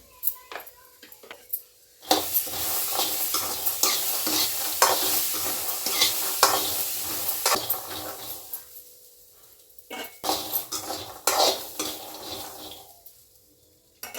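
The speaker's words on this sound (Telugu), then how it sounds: "శనగలు అయితే వేగినాయండి" Chickpeas fry in a pan on a gas stove as a spoon stirs and scrapes them, with a close sizzle that rises and falls across two bursts of stirring separated by a quieter pause.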